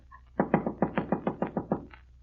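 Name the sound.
knocking on a door, radio drama sound effect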